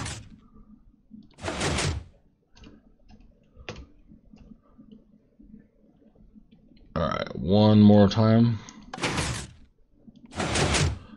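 Minecraft redstone hidden door with pistons retracting: sharp mechanical thumps spaced a second or two apart, ending in a quick two-beat pair, with a short spoken remark partway through.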